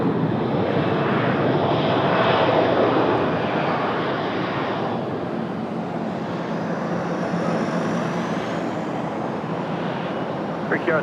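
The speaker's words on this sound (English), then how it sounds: "Avianca was cleared for takeoff." An Avianca airliner roars down the runway on takeoff, a broad, steady jet rumble and whine that swells and then holds, with a faint voice in the background.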